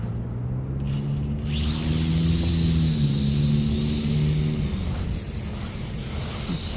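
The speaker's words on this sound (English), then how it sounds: "So I brought out my MGX X600, y'all, giant hexacopter" A giant MGX X600 hexacopter drone flies outdoors, giving off a continuous buzzing rotor drone with a high whine that rises in pitch early on, then holds steady and fairly close with no voices.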